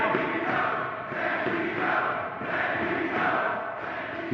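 Arena crowd at a Ring of Honor wrestling championship bout roars continuously for the wrestler Bandito, a dense, sustained cheer swelling and dipping in waves with no talk over it.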